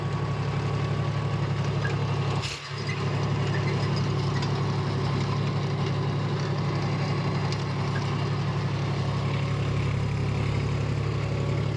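A John Deere 5050 D 4x4 tractor pulls a rotavator, its engine droning in a steady, close hum with a rhythmic mechanical clatter, broken by one brief knock near the start.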